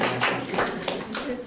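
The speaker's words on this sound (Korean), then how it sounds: "박수 한번 주세요." Small congregation at a youth worship service clapping briefly, a few scattered hand claps at close range mixed with some voices.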